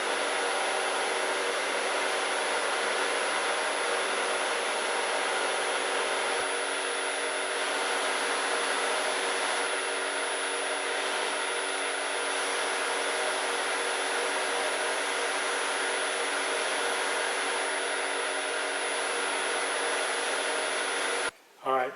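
A buffing wheel or lathe runs steadily while a cake plate is turned, giving a continuous broad whirring drone that holds even for the whole stretch before cutting off abruptly at the end.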